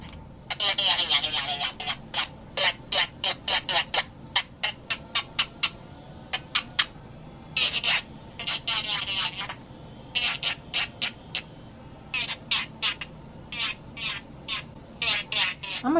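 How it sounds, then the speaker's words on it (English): Repeated bursts of high-pitched electric whirring and rasping from a fine sanding band on acrylic nail tips, starting and stopping in short rhythmic pulses, close to the microphone with no voices. "I'm gonna go in with this here fine sanding band and take the shine off these nail tips."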